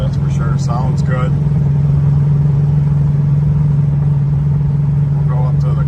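Muscle car engine holding a steady low drone while driving, loud and continuous throughout, with faint voices and brief chirps over it.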